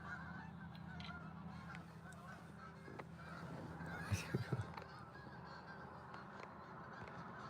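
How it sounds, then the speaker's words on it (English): A flock of Canada geese honks at a Cape Breton, Nova Scotia shoreline at sunset, a short cluster of distant calls over steady outdoor ambience. "There goes the geese, boy. Canadian goose."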